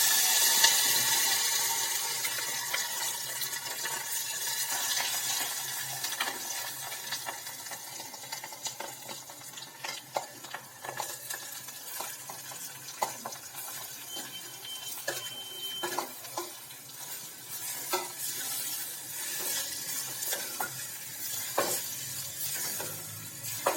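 Mustard seeds, whole cumin, a spoon of hing and fresh curry leaves from the home garden hit hot oil for a potato rice dish, giving a steady close crackling sizzle dotted with sharp pops, with no voices.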